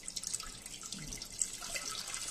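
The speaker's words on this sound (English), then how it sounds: "we're going to take this juice here, and we're going to pour it into a saucepan" Cooking juice left over from pressure-cooked Chinese-style pork ribs pours into a saucepan, a faint, soft trickle with a few small drips and splashes, steady and quiet throughout with no talk.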